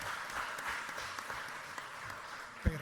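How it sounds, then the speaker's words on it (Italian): Faint, steady applause from an audience at a round-table opening honouring Professor Rosa Gazzara, distant and soft throughout, ending with one low thump near the close. "Un applauso"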